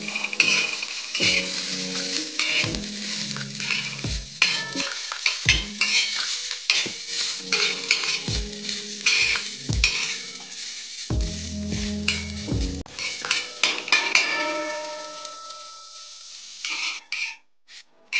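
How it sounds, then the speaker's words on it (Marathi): Onions sautéing in a little oil in a pan, with clanking and scraping of a metal spoon against the pan in bursts over a faint sizzle, close by, ending in a quieter stretch. "कांदे चांगले परतून घेऊ,"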